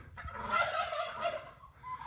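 Turkeys gobble in rapid warbling bursts, fairly close and loud, with a short pause before another call near the end.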